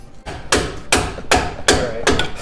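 A hammer strikes metal parts during a Carli 2.5-inch pintop lift kit install on a Ford F-250 truck, five loud, close blows at a steady rhythm, with no speech.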